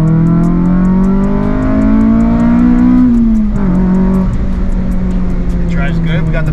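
A 2002 Acura RSX Type S engine hums steadily, rises in pitch, then dips and blips as a heel-toe downshift is made. Its drone stays loud and close throughout.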